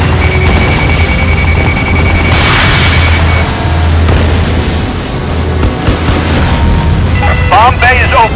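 A missile detonates in the jet combat game Ace Combat Assault Horizon, a heavy boom swelling over constant roaring engine noise and battle sounds, with dense clutter and a tonal warning chirp near the end.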